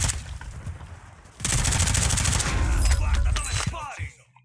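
Gunfire in the shooter Warzone 2.0 bursts in a rapid automatic volley after a quieter stretch, with sharp cracks and clinks, then fades out.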